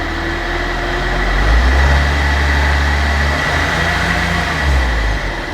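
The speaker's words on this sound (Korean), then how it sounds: "살짝만 RPM을 살짝 올려볼게요" A Hyundai Veracruz SUV engine with 119,000 km rumbles steadily nearby, its low drone rising slightly in pitch and settling back during a gentle rev.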